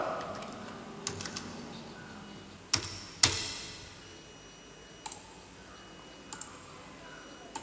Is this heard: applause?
no